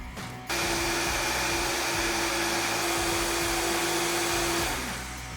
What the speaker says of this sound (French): Je remets la poudre de noix de cajou et je pars mixer mon lait de cajou.